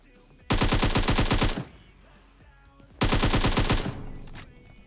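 Two bursts of rapid automatic gunfire in PUBG Mobile, each lasting about a second, loud and close, separated by a short pause with no talking.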